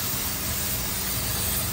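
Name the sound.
spraying water to wash an AC DT4000i air conditioner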